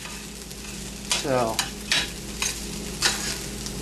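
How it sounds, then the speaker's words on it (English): Fried rice sizzles and crackles in a hot pan while a utensil scrapes and stirs it in short bursts; a voice briefly speaks. "Hear that sizzling? That's called fried rice."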